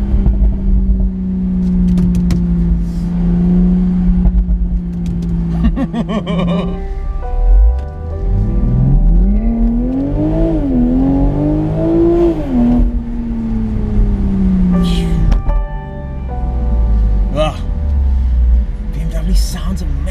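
A 2019 BMW Z4 M40i exhaust booms and rises in pitch as the car accelerates from inside the cabin, engine droning steadily before climbing through revs, with people talking and chuckling over it.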